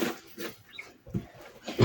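Short, low snorting grunts from two-month-old piglets come in bursts with brief pauses between them, close by.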